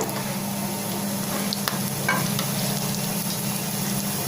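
Bell pepper fritters seasoned with cumin and carom seeds fry in oil, giving a steady, dense sizzle with occasional light clicks from a utensil and no talking.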